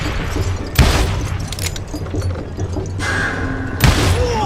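Gunfire in the video game Call of Juarez comes as two sharp loud shots a few seconds apart over a steady rumbling game background.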